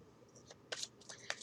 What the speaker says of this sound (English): shuffling the yes, no, maybe cards